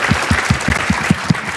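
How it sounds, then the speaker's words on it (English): An audience at a climate event gives a round of applause. The clapping is short and rhythmic, with evenly spaced claps over a bed of crowd noise. "Can we have a round of applause for that?"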